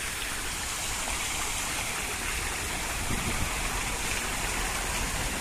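Steady, dense rush of a fountain splashing in Rossio Square (Praça Dom Pedro IV), Lisbon, continuous and fairly close, with no voices or breaks.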